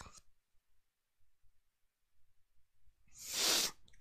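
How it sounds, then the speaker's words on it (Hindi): A single sharp sneeze bursts out near the end after a few seconds of near silence with faint soft movement. "अरे छींक आ रहा है तो डर लग रहा है"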